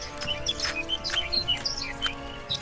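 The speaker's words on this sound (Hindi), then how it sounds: "चिड़िया के चहकने की आवाज सुनाई" Small bird chirping as a story sound effect: quick, bright tweets repeating in a busy, steady run, close and clear with no talking.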